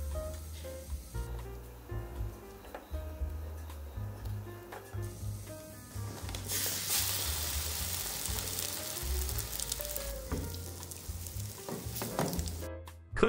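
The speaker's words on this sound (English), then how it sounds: "Place the coated toast in the pan." Egg-coated toast slices fry in hot oil in a frying pan, a continuous close sizzle that swells louder as the slices go in, with light scraping and a brief knock at the end, no speech.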